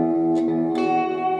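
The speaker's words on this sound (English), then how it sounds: "And the second pedal I'm gonna use is this delay pedal." Electric guitar runs through a delay pedal, two strummed chords sounding close together and sustaining while repeats smear the tail, steady and clear without speech.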